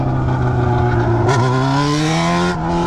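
A Yamaha XJ6 motorcycle accelerates close by, its engine revving up in a loud, climbing whine with a brief shift midway before the pitch keeps rising.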